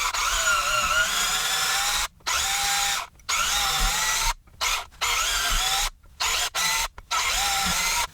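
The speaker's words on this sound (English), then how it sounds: "I then use a step bit like this and actually drill down into the bushing itself" A step drill bit bores into a suspension bushing on a Ford F100, a loud, close, high whining drill that runs in several bursts, each several seconds long, with short silent pauses between and pitch dips as the bit bites.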